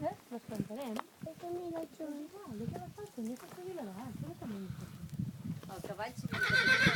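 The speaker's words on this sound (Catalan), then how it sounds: "El cavall marxarà perquè deu voler seguir." A horse neighs repeatedly in shrill, wavering whinnies outdoors near old ruins, while hooves clip-clop faintly underneath and a few human voices murmur around it.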